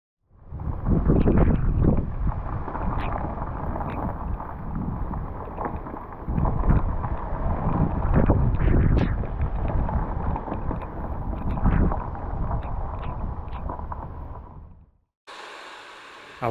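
Heavy rain pours down, with gusty wind buffeting the microphone, while a Van Gogh RVA1 awning is packed away at a campsite in Scotland. The noise is dense and loud, then stops abruptly near the end.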